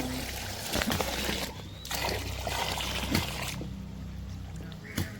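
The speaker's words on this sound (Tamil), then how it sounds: "தண்ணி ஊற்ற அரிசி கலவரத்துக்கு தண்ணி ஊற்றுறாரு" Water poured onto rice in a large pot during home cooking for a celebratory feast, a splashing trickle with a few louder splashes, heard amid background activity and nearby voices.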